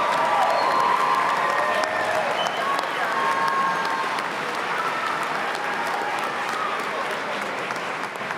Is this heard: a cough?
no